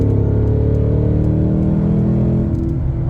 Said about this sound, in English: Oh, I could hear the supercharger that time, for sure.